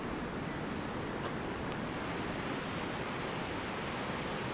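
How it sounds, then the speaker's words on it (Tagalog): Strong ocean waves at San Juan beach in San Fernando make a dense, continuous roar of surf, loud and broad with no clear breaks, and no one talking over it. "Hindi ka makakaligo di, ang lakas ng alon."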